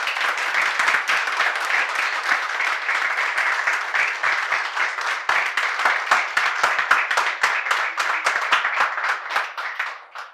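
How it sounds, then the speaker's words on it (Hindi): Loud, enthusiastic applause from an open mic poetry audience in Lucknow, many hands clapping in a dense, close rhythm that grows more distinct and scattered before fading at the end. "सबसे पहले कारवां और प्रयास के लिए जोरदार तालियां"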